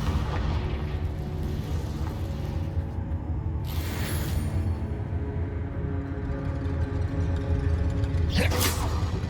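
Blasting-spell explosions in the Hogwarts Legacy video game, two short bursts of crackling impact rising out of a steady rumbling game soundtrack, the second near the end.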